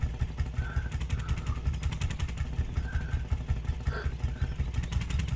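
Ursus single-cylinder two-stroke diesel tractor engine running with a steady, rapid thumping beat, close and moderately loud, with a few faint tones over it.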